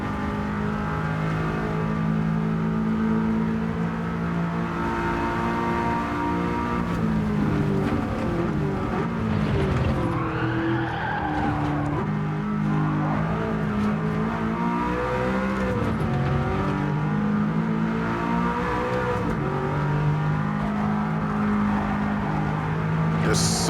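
A race car engine in Gran Turismo 7 revs through a lap, pitch rising and falling with gear changes and corners, loud and sustained, with a voice talking over it at times.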